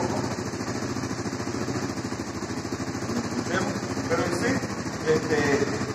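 Loncin JL250GY motorcycle engine idling after a cold start, a steady low pulsing rumble throughout with someone speaking over it near the end.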